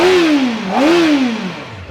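A Kawasaki Ninja ZX-4RR sport bike's inline-four engine revs up quickly, dips, then climbs again in a rising and falling wail. It sounds loud and close, with no talking over it.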